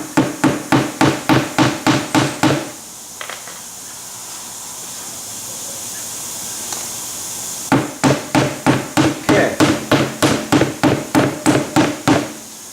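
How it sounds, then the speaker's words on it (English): Sharp metallic hammer blows strike a leaking Volkswagen tire in a rapid, even series, pause for several seconds of faint hiss, then resume in another quick run of strikes, close and loud. "See what happens here when I smack it with a hammer"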